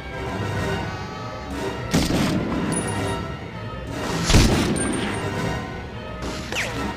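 Gunfire and heavy explosive crashes in Call of Duty: Modern Warfare, loud booming impacts roughly every two seconds over a dense rumbling battlefield bed, with no talking.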